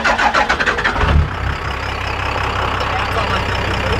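A 4WD engine turns over with a few rough chugs, then settles into a loud, rattly idle like a garbage truck, close by.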